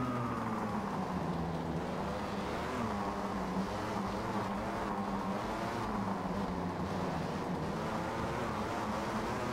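Two-stroke 500cc racing motorcycle engines from Valentino Rossi The Game drone and rise steadily as they accelerate, a continuous buzzing whine with a dense, even roar throughout and no talk.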